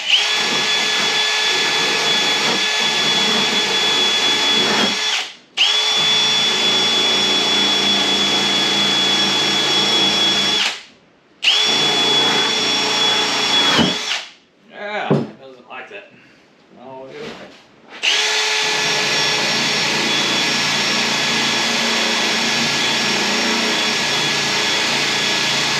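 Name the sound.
drill with wire brush on car hood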